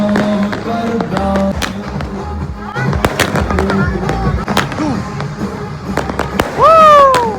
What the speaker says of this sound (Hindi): छत पर पटाखे फूट रहे हैं